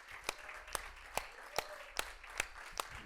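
A small audience claps in a faint, steady, evenly spaced rhythm to welcome a speaker at an ethics talk, each clap distinct rather than a dense roar.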